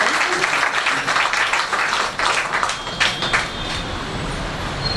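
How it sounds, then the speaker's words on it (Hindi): An indoor audience at a Raksha Bandhan gathering claps in welcome, a dense burst of many hands that is loud at first and then thins and softens toward the end, with a faint murmur of voices. "सभी स्वागत में तालियां बजाएं।"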